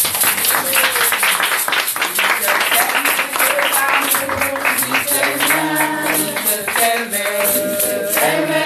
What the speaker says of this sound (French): Oui, acclamons pour l'Éternel.